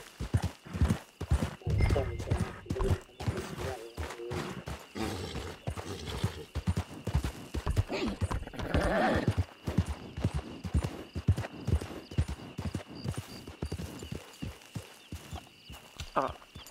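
Steady clip-clop of horse hooves walking in Red Dead Redemption 2, with a horse neighing a couple of times, plus a faint steady electronic tone in the background.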